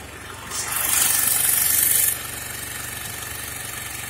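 A Bajaj Pulsar 150 motorcycle engine revs up, rising to a louder high-RPM whine for about a second and a half before dropping back to a steady idle hum, no voices.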